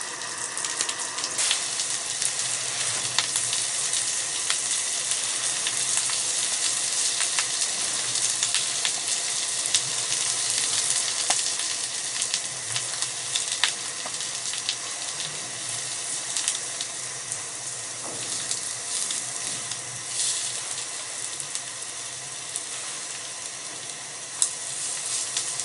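Fish sizzles steadily in a pan over a gas camp stove on a lakeside camping trip, a close, continuous crackling hiss with small pops throughout and no talking.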